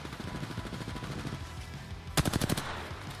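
Gunfire in the video game Apex Legends: a rapid automatic burst rattles under game noise, followed by a sharp, louder string of about eight quick shots near the end, with no talk.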